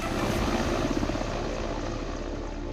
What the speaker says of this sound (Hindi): वायुसेना के विशेष हेलीकॉप्टर से इन चीतों को कूनो नेशनल पार्क पहुंचाया गया।